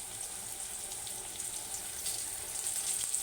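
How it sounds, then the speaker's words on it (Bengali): Pointed gourd (potol) frying in oil in a pan, a steady close crackling sizzle that holds evenly throughout with no talk. "ভেজে নিচ্ছি"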